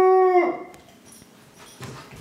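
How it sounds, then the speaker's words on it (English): A guard dog reacts to an intruder with a brief, loud, tonal howl-like bark that breaks off after half a second, followed by faint scattered household noises. "My guard dog was detecting an intruder."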